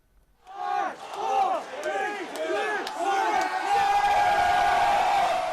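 A crowd of iPhone 7 buyers cheers and whoops outside stores on launch day, rising from near silence into loud, sustained cheering with overlapping shouts.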